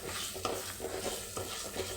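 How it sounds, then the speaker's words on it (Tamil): Tamarind stirred and sautéed in a pan for ivy gourd thuvaiyal: a steady soft sizzle under repeated scraping strokes of a spoon against the pan, close by and moderately quiet, with no talking. "அது இதோட சேர்த்து நல்லா வதக்கிக்கலாம். ஒரு ப்ரௌன் கலரில் வர வரைக்கும் வதக்கிக்கலாம்."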